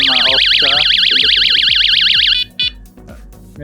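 A motorcycle vibration alarm sounds loud and close with a rapid warbling electronic siren for about two seconds, then cuts off, leaving a few short chirps over steady clicking.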